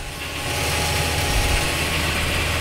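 Tractor engine running steadily at about 1600 rpm while spreading fertilizer on a rapeseed field, a continuous low rumbling drone under a broad wash of noise, growing slightly louder after the first half second.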